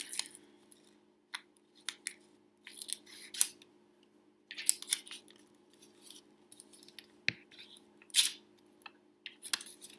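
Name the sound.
trimming cardboard with scissors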